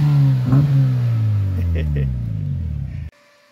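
A car with a newly fitted exhaust rumbles and revs close by in a restoration workshop, the engine note rising and falling for about three seconds before cutting off abruptly, while people talk over it.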